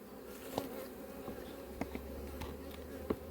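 Honeybees buzzing around an apiary hive, a dense steady hum of many wings close by, with a few sharp clicks and knocks scattered through.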